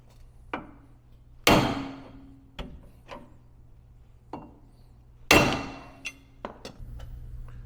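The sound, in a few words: hammering to pop the knuckle off a Ford F150 front end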